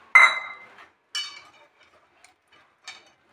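Metal utensils clink against a bowl while cold water is stirred into cream for homemade ghee, a sharp ringing tap followed by a few lighter, spaced clinks with quiet gaps between.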